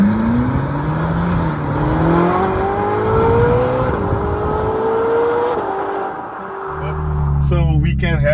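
A Ferrari 458 Italia engine revs loudly and climbs through rising pitch sweeps, then drops to a lower rumble, with a voice talking over part of it.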